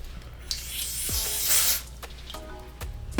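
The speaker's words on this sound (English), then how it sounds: "I need to touch up with some spray." A spray bottle gives a soft hiss lasting about a second during a haircut touch-up, close by, with faint handling noises before and after.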